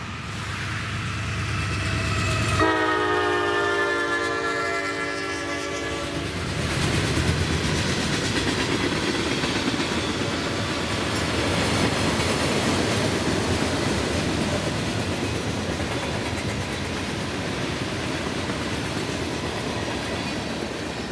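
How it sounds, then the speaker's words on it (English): A westbound freight manifest train led by an AC44C6M locomotive rumbles past steadily and close, with a horn blast near the start and a continuous rolling roar of wheels that persists to the end. "westbound manifest train 15M approaches with AC 44 C6M number 4094 on the helm"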